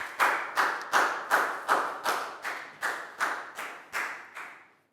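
A Year 4 class claps in rhythm for a classmate, about a dozen evenly spaced, sharp unison claps, loud and close, keeping a steady beat for roughly five seconds.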